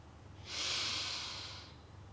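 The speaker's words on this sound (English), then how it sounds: "So breathing in" A single slow, deep inhalation during a guided breathing exercise: an airy hiss that swells over about a second and then tapers away, close to the microphone and quiet, with no speech.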